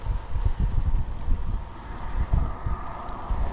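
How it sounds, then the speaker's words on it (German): Strong, gusty wind in a snowstorm on the Karakorum Highway in China buffets a campsite with no windbreak, producing deep, uneven rumbling blasts of wind noise against the microphone. "Der Wind ist so stark"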